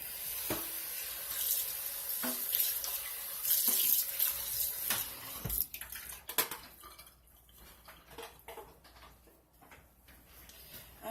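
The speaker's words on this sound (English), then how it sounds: "And I rinse this out." Tap water runs into and splashes around a plastic lye container as it is rinsed out at a sink, a steady close rush with brief sloshing bursts that thins out toward the end.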